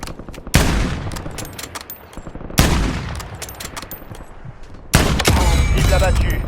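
Bursts of automatic gunfire in the video game Warzone, three loud volleys of rapid shots each fading into scattered single cracks, with faint game voice lines between them.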